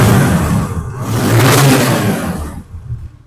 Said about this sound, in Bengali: এই বাইকটি এখন ইঞ্জিনের সাউন্ড কন্ডিশনটা যদি শোনায় আপনাদের